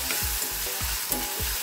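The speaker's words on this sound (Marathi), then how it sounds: "आता आपण टोमॅटो घालूया। टोमॅटो पण परतायचा" Tomatoes sauté with browned onion in hot oil for a Karnataka-style vegetable sagoo, a close steady sizzle with rhythmic stirring scrapes about every half second, no voices.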